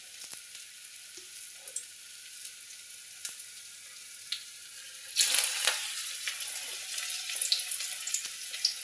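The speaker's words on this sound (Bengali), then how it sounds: "একদম লো ফ্লেমে ভাজতে হবে" Malabar spinach (pui shak) fritters frying in oil on a low flame, a faint crackling sizzle that swells sharply into a louder, denser bubbling hiss partway through and stays steady.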